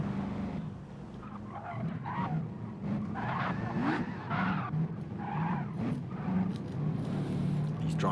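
A race car in a sim racing league round at the Nurburgring GP spins out, its tyres squealing and skidding over a steady engine drone, while a commentator talks throughout.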